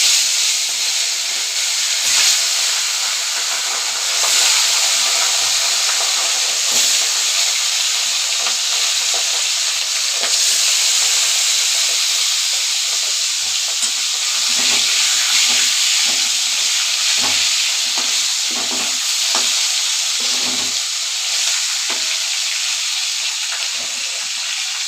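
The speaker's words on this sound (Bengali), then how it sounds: "আর মাছগুলো ভেজে নেব।" Rui fish frying in hot oil, a steady, dense sizzle and hiss that stays loud and even throughout, with occasional small crackles and no talk.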